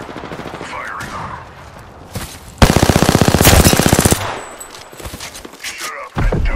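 Rapid bursts of automatic gunfire in a shooter video game, a dense rattling volley of about a second and a half standing out loud and close over the game's background sounds.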